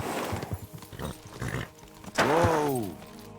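Rapid hoofbeats from a galloping horse in Kingdom Come: Deliverance II, with a loud whinny rising near the end; the game audio stays close and steady throughout.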